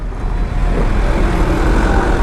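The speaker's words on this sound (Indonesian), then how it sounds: "Nah, bisa kita lihat truk-truk besar pada lewat sini" Big trucks heading out to pick up or deliver loads in the Candi industrial estate in Semarang rumble past close by, a continuous loud engine and road roar with no break.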